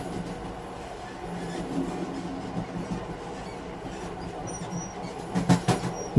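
A train runs at night with a steady low rumble of rolling wheels and rail noise, the clatter rising a little toward the end.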